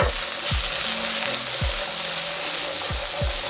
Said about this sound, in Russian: За то время, пока мы их обжариваем, и появляется вот эта золотистая корочка